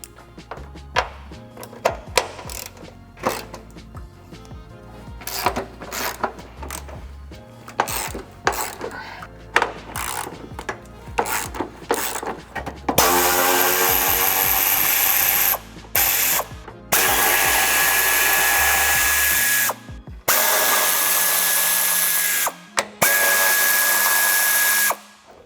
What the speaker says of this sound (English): moving to the back, we are going to remove the last brace here. Again, 13mm nuts.